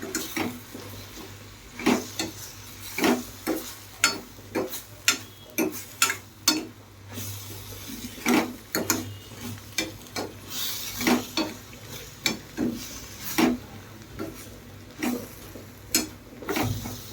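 Onions and tomatoes sautéing for a kurma, a spoon scraping and tapping against the pan in irregular, sharp clicks over a faint sizzle, fairly quiet and close, with no voices.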